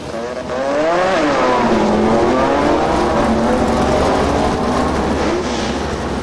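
A Mazda RX3 race car accelerates hard down the Calder Park drag strip with a loud, continuous engine roar, its pitch sweeping up through several gear changes over about six seconds.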